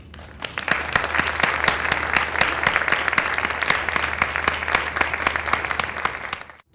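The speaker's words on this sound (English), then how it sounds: "Let's give them all a round of applause." An audience at a Center for Family Violence Prevention impact event gives a steady, full round of applause, many hands clapping evenly for several seconds before stopping abruptly.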